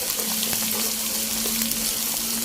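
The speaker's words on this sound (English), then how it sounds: "Fry until it's fragrant." Ingredients for kampung fried rice frying in hot oil, a steady close sizzle with crackling pops throughout, no talking.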